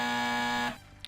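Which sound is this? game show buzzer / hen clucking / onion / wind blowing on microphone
game show buzzer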